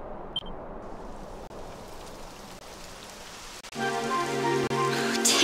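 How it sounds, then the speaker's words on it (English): Rain falls in Dragon Quest XI as a soft, steady patter that builds, joined about two-thirds of the way through by a sustained musical drone with clear tonal layers, and a small click near the start. "It would have to go and start raining, wouldn't it?"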